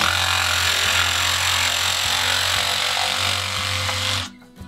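A Makita XSJ05Z cordless shear cuts through half-inch fiber cement board with a loud, continuous buzzing motor and chattering blade, heard up close before it abruptly stops near the end.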